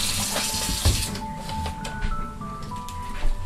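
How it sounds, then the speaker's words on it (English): Meat being rinsed under running tap water in a home kitchen, a continuous splashing stream with a few louder clunks and handling sounds, no speech. "Rinse all the meat."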